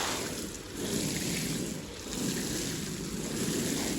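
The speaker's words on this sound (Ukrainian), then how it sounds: "Так, полив я маю отаку от супер ліючку потужну. Так от поливається." A powerful watering can pours water onto freshly sown watermelon seeds, producing a steady, broad rushing splash that swells and dips slightly throughout.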